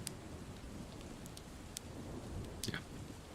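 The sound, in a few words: thunderstorm with rain, ambience for tabletop role-playing session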